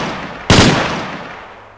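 A single loud gunshot in the STALKER video game cracks out sharply, its echo tailing away quickly over about a second against low background ambience.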